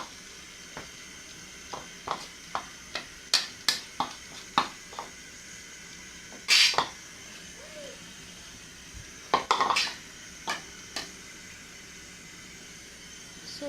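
Egusi fries in a pot for okra soup with a faint, steady sizzle, broken by a series of sharp spoon knocks and scrapes against the pot, with two louder clatters.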